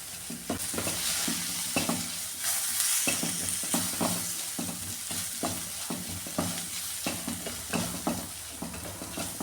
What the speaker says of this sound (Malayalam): ഇനി ഈ ടൊമാറ്റോ ചേർത്ത് കൊടുക്കാമേ ഇതും കൂടെ ഇതിലിട്ടൊന്ന് വഴറ്റിയെടുക്കാം